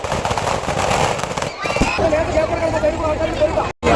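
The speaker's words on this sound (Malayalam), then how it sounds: "ഈ ഒരു ഭാഗത്ത് വെച്ചിട്ടാണ് വെടിക്കെട്ട്" Rapid crackling bursts of fireworks pop and rattle in quick succession, loud and close, with crowd chatter mixed in and a brief silent gap near the end, at a club's fireworks display in Kattachira.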